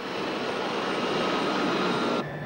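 Steady roar of a helicopter flying over the Athens–Corinth national highway, a loud, continuous broadband engine and rotor noise that cuts off abruptly near the end.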